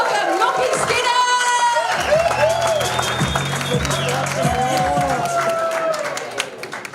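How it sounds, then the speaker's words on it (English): Live standup comedy competition audience welcoming a comedian to the stage with loud, dense applause and cheering, whoops and shouts rising over steady clapping before it tapers at the end. "Right, let's start the applause!"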